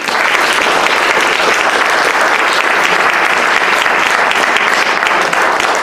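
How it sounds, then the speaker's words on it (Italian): An Italian literary event audience gives its guests loud, sustained applause, a dense and even roar of many hands clapping without a break, close and full. "vi chiedo di fare un applauso ai nostri ospiti"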